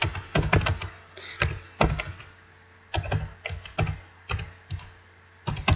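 Typing on a computer keyboard comes through as close, crisp key taps in irregular clusters and short bursts with brief pauses between, with no talking.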